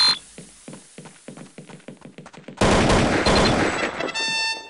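Gunfire in Counter-Strike: Condition Zero on the Dust II map, a rapid string of sharp shots fading in rhythm, then a dense loud burst of automatic fire and clatter, with no voices.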